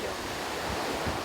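Ocean waves at a Busan surfing beach, a continuous broadband rush of surf mixed with wind buffeting the microphone, steady and fairly loud with no voices.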